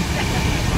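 Inside a moving train, a dense, loud, steady rumble and rushing hiss of wheels and carriage fill the space with no distinct voices.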